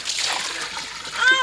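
Water splashes briefly while a child is bathed, a short wet slap and splatter close by, with a voice present.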